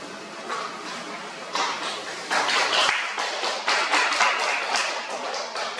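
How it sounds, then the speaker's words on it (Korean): Lecture audience at the Sungui-jeon academy bursts into scattered clapping that swells into a fuller, uneven round of applause, fairly close and without talk. "이게 무슨 박수죠?"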